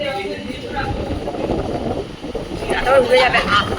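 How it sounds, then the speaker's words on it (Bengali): Gusty wind blows outdoors after rain, buffeting the microphone with a constant rough rumble that swells near the end, while people talk underneath. "হাওয়াতে দেখালে চা উড়ে গেল"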